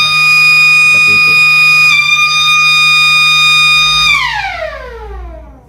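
A high engine temperature alarm sounds on a diesel fire hydrant pump control panel, a loud, steady electronic tone holding for about four seconds before sliding downward and dying away.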